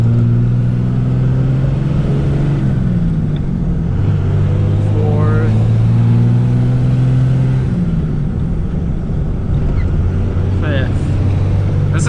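A manual 2001 Dodge Ram 2500 with a Cummins diesel and six-speed gearbox drones loudly from inside the cab, its engine pitch dropping and climbing through shifts into third gear, with brief voice sounds over it.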